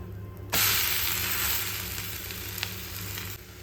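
A tomato uttapam is flipped onto a hot pan and bursts into a loud, even sizzle that stays steady for a few seconds before cutting off.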